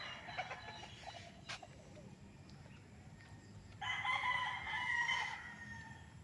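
On a farm in Nagcarlan with a gamecock training area, chickens cluck faintly and a rooster lets out a clear crow midway, set against quiet outdoor background.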